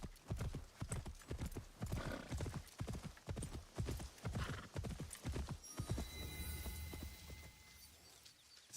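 A horse mount gallops in Assassin's Creed Shadows, its hooves drumming in a fast, steady clip-clop rhythm before slowing near the end as a soft whinny and faint game ambience come through.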